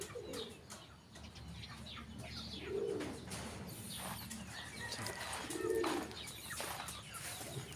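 Two soft, low pigeon coos sound a few seconds apart over steady outdoor ambience, with faint chirps and rustling in the background.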